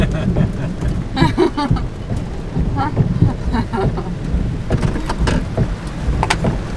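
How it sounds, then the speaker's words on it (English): Steady heavy rain pours down in Costa Rica with a constant dense hiss, mixed with wind buffeting the microphone and scattered drips and knocks throughout. "Alright, back into the rain."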